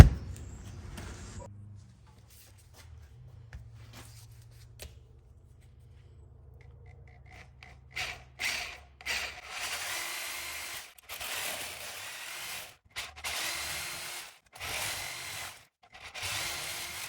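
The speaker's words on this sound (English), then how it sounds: "I want to actually cut this open so we can see inside of it." A Napa Gold oil filter, part number 1080, is cut open by hand with a tool, giving scraping, grinding rasps in uneven strokes after a quiet start, close and moderately loud.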